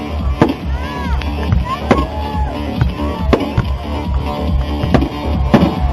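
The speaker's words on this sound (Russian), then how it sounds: "Этот потрясающий салют" Rapid popping and crackling bangs of fireworks burst repeatedly over a noisy crowd at a football cup final, with whistling streaks rising between the louder cracks.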